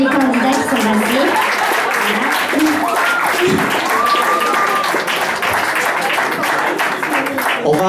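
An audience applauds talent contest candidates at a festival event. The clapping is sustained and steady, with voices calling out and a few brief melodic tones sounding over it.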